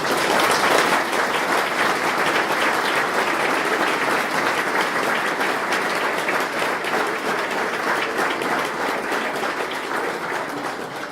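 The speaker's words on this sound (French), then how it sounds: "j'aimerais que vous les applaudissiez" Audience applause at a New Year's greetings ceremony in Cesson, steady and dense, sustained at an even loudness throughout with no break.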